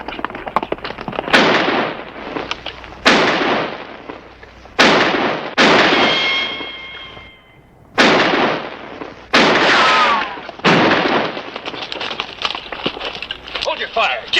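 Gunshots in a Western TV episode set in Tombstone Territory: a series of loud, sharp blasts, each with a ringing decay, spread unevenly across the scene, some close together and others spaced apart.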